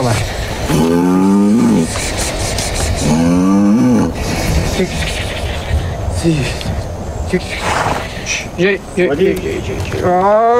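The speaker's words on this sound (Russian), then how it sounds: "Держи своего быка." A bull moos loudly in long, drawn-out calls, close by, with people talking over and between the lowing.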